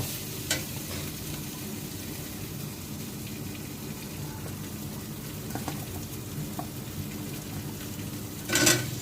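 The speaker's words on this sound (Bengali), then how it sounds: "আলুগুলো ভালো করে ভেজে নিয়ে নেবেন।" Cubed potatoes sizzle quietly in a pan with spices, a soft, even crackle that runs throughout with occasional light stirring taps and a brief louder scrape near the end.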